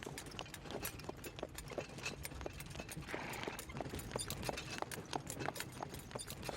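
Hooves of a cart horse clip-clop steadily along a road in rural Mali, a quick regular beat of sharp hoof strikes over a constant background of road noise, with no talking.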